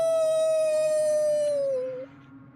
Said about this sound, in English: It is werewolves. Wolves.